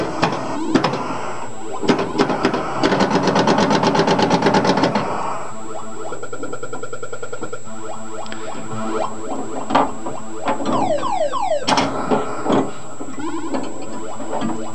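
A Silverball Mania pinball machine launches a ball, then rattles and clatters mechanically, with buzzing coil pulses, rapid electronic ticking chimes and sweeping tones, loud and close throughout.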